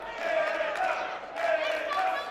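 At an independent wrestling show, a crowd shouts and calls out together in a steady roar that swells twice, heard at a moderate distance.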